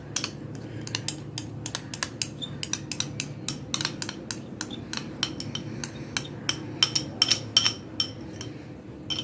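Batter being mixed in a bowl for a chocolate marble cake, with quick repeated clinks and scrapes of a utensil against the bowl's side in a steady, busy rhythm throughout.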